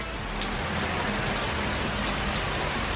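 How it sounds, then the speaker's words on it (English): Heavy rain pours down outdoors in California, a dense, loud, steady hiss of drops hitting surfaces that continues throughout without any voices. "but it's freaking raining hard"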